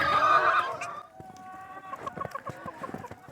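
A loud squawk from a nearby chicken, then a run of soft, repeated clucks from several birds close by.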